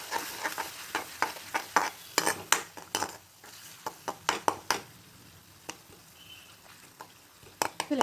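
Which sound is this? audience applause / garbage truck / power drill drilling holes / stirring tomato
stirring tomato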